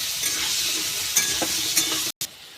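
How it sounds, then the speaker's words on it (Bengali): Potatoes frying in oil in a wok, a steady loud sizzle with occasional stirring scrapes and a brief cut near the end. "তেলের মধ্যে আলুগুলো ভালো করে ভেজে নেব।"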